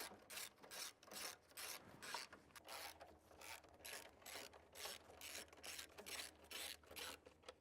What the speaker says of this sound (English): we will just loosen up the fuse box. Take out the 3 1/2-inch bolts.